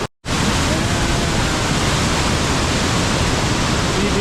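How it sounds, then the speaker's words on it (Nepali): A rushing waterfall, Aina waterfall, roars as a loud, steady broadband wash that fills the whole clip after a brief silent start. "यो ऐना झरना हैन"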